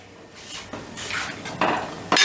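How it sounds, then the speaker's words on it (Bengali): Sajne (drumstick) stalks and fried pumpkin pieces go into a pan of cooking masoor dal with a few metallic clinks and scrapes of utensil against pan, growing louder toward the end, no talking. "দিয়ে দিচ্ছি সজনে ডাঁটাগুলো একই সাথে দিয়ে দিচ্ছি ভেজে রাখা কুমড়োগুলো"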